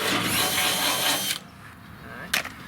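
A power drill with a 3/8-inch bit whirs loudly for over a second while drilling steel flat bar, then stops, followed by a short burst and a quieter background hum.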